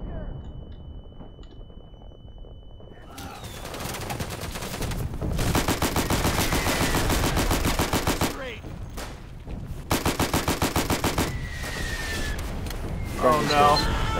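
Gunfire in the World War II shooter Day of Infamy: bursts of rapid machine-gun fire and single rifle shots crack loudly in rhythmic volleys, with pauses between bursts and a faint radio-like tone early on.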